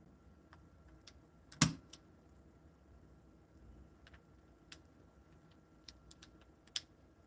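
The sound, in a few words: typing on a Lego mechanical keyboard, KBDcraft kit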